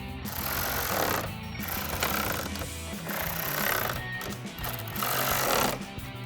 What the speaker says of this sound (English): I'm gonna throw my ratchet back on and tighten all those down.